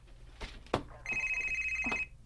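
A phone rings with a steady electronic tone for about a second, preceded by a few short knocks and clicks and followed by a brief voice sound, heard at close range in an office scene.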